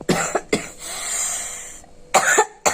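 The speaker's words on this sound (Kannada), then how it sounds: "ಯಾಕೋ ಕೆಮ್ಮು ಬಂದಾಗಿದೆ" Several sharp, close coughs: a pair of quick bursts at the start, a longer raspy stretch, then two more harsh coughs at the end.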